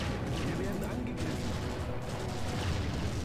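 Paladin cannons in Empire Earth fire in a dense, continuous barrage of overlapping booms and gunfire-like cracks, steady and loud throughout, blended with other battle noise.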